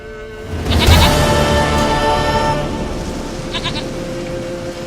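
A goat in The Witcher 3 video game lets out a single long, wavering bleat that starts loud and trails off over several seconds above a soft ambient background, with a brief fainter cry near the end.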